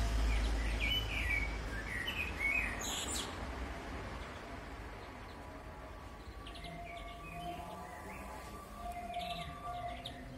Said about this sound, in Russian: Я не могу, как они расщебетались, ты посмотри.